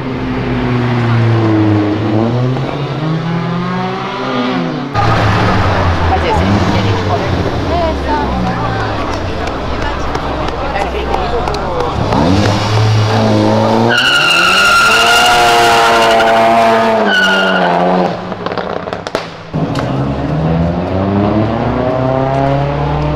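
A Golf GTI at a drag race, its engine screaming through rising gear-like sweeps while passing near and loud, with tyre noise and crowd ambience; voices talk over much of the run.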